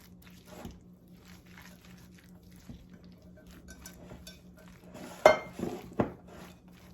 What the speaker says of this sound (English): We're going to mix this really, really well.